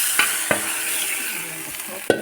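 Shing fish sizzling in a pan after water has been added, a continuous hiss punctuated by a few sharp utensil knocks, close and alone without talk.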